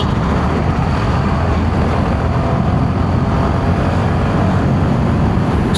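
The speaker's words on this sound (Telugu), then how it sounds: "స్మూత్గా ఉంది బ్రో ఇంజన్ అయితే." A Suzuki Burgman Street 125 scooter engine runs at a steady idle, a smooth, continuous low hum with a dense wash of broadband noise that stays even and close for the whole stretch.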